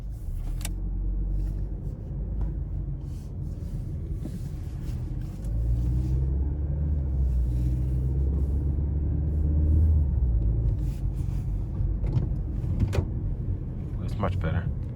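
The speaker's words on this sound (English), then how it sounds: "And here we go on our test drive, the 2020 Trax LS." A 2020 Chevy Trax LS with a 1.4L engine drives on a test drive, a steady low cabin rumble of engine and road noise with a few faint clicks and bumps, while someone talks.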